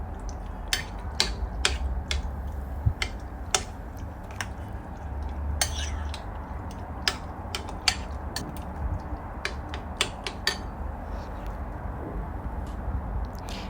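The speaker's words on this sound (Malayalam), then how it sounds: "എന്നിട്ടത് ഒരു സ്പൂണോട് നന്നായിട്ട് ചിക്കനായിട്ട് മിക്സ് ചെയ്യുക." A spoon mixes egg into raw chicken for Kerala-style Chicken 65, tapping and clinking against the bowl in quick, irregular close-up clicks over a low background hum.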